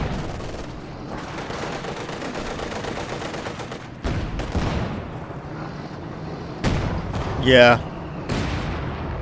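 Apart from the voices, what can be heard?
gunfire and artillery in a tank battle video game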